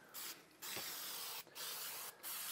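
An aerosol can sprays a coating onto a canvas in bursts, loud close hissing that stops and restarts four or five times with short pauses between.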